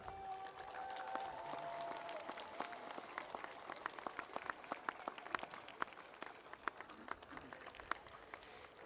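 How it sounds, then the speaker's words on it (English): An audience at a school graduation ceremony applauds in a long, steady wash of clapping. Scattered louder claps stand out, and the sound grows slightly denser toward the end. "give them a round of applause to thank them"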